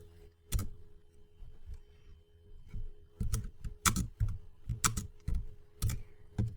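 Keystrokes on a computer keyboard as a command is typed into a Linux terminal, sparse clicks at first, then a quicker run of sharp, close taps with brief pauses between them.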